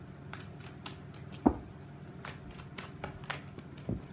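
Tarot cards are shuffled and drawn by hand, with soft riffling and quiet flicks in a run of short, close, fairly faint bursts, one sharper snap standing out.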